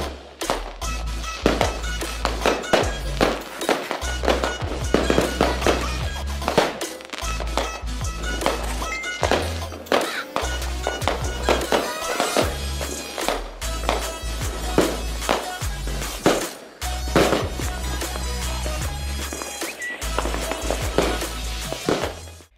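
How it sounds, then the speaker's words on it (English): A fireworks show at midnight for a celebration in Busan, with a dense, loud barrage of cracking bursts and crackling pops that continues almost without pause. "a beautiful fireworks show brightened up the night sky right as the clock struck midnight on October 13th."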